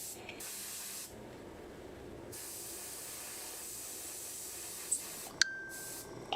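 An airbrush sprays paint on Warhammer miniatures in short bursts of soft, steady hissing, close by and without talk, with brief pauses and a couple of light clicks near the end.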